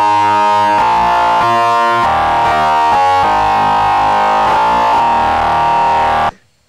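Distorted synth lead from a Roland System-8, loud and harmonically dense, playing a sequence of sustained notes with sharp rhythmic changes before cutting off abruptly near the end.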